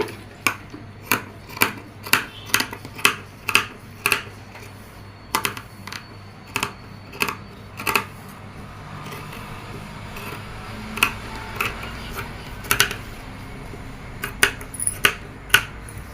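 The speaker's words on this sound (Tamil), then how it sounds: "இப்போ நான் இதை கட் பண்ணிவிட்டு அப்படி திருப்பி காட்டுறேன்" Scissors snip through blouse fabric in a steady run of crisp, close clicks, each cut sharp and brief, with the rhythm loosening and growing quieter partway through before picking up again.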